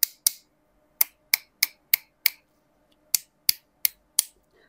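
Sharp, crisp taps on the hard plastic casing of a Wellup X20 phone cooler fan, about a dozen close clicks in two quick bursts separated by a short pause, with near silence in between.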